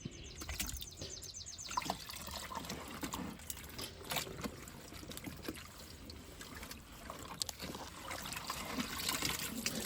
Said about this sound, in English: I will be back when this 4-minute rinse cycle is done